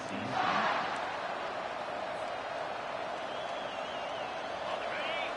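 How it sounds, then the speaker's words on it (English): A college football stadium crowd roars in a continuous, distant wall of cheering that swells briefly near the start and then holds steady. "This crowd, full throat, splitting the eardrums and letting them know it's going to be a long day."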